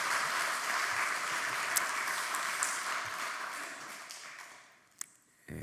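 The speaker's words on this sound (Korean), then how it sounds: "우리 그분들을 위해서 한번 박수로 이렇게 수고를 격려해 주시면" A church congregation claps at a special early-morning prayer meeting to encourage volunteers; broad, even applause sounds from a distance, fading toward the end before a sharp tap.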